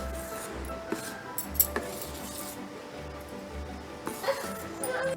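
A spoon clinks and scrapes around a bowl of sponge dosa batter, scattered light taps and knocks close by, with a dog barking in the background.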